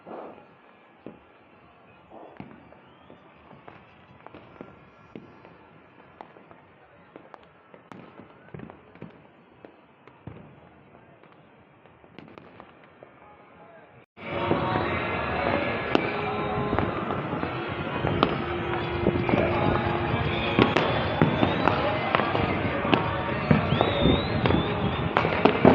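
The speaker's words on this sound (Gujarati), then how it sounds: "જ્યાં જો ત્યાં નીકળ્યા ફટાકડા ફૂટે મિત્રો." Firecrackers bursting in the streets of Surat during Diwali: a dense, loud barrage of crackling pops and bangs erupts midway and continues nonstop, preceded by quieter scattered distant pops.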